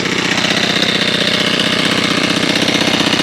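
A 2017 Senix 4-cycle grass trimmer with a clutch and black Vortex line runs steadily, its small engine giving a loud, even, rapid putter close by with no talk over it.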